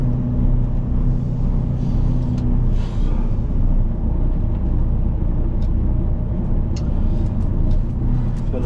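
A heavy truck engine rumbles steadily and close by while the vehicle drives off, a low constant drone with no voices.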